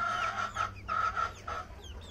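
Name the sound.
chickens clucking on an egg farm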